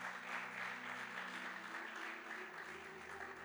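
A church congregation applauds steadily to acclaim the word of God, a soft, continuous patter of clapping at a distance.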